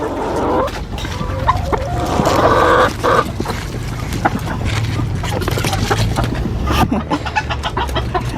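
Chickens cluck and squawk close by in a backyard coop during egg collection, a busy, continuous flock chatter with occasional louder calls, mixed with rustling and handling noises throughout.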